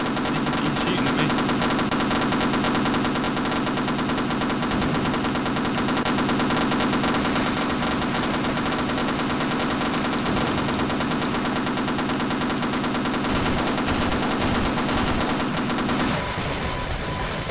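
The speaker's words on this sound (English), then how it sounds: "He's shooting at me." Enemy gunfire in the Half-Life game, sustained rapid automatic shots rattling continuously and loudly for many seconds without pause, thinning out near the end.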